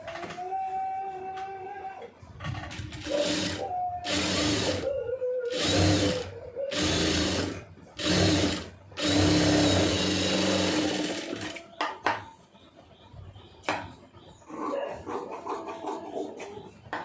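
A sewing machine stitching a marriage blouse runs in repeated bursts of rapid mechanical whirring, stopping and starting several times. Quieter pauses fall between runs, with a brief lower hum near the end.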